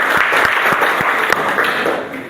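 A classroom group applauds during a guidance-counselling lesson, with steady, dense clapping over about two seconds, fairly loud and close, and a few sharper individual claps standing out.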